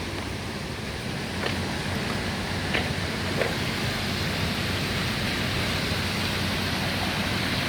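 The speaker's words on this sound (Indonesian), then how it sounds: "ini dari aliran kali PJT ya yang ada di Desa Sri Mukti, juga mengalirkan air. Ini deras ya." Brown water rushes fast through an irrigation canal from a sluice gate in a village, making a dense, continuous roar that stays steady and close throughout.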